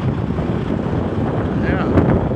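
Wind buffets a microphone outdoors at a casino parking area, a steady loud low roar filling the whole stretch with gusty swells and no other clear sounds.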